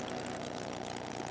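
A Topaz light aircraft's propeller engine roars steadily at full power on the takeoff roll, a dense continuous drone heard close up from inside the cabin, with no pauses or talk.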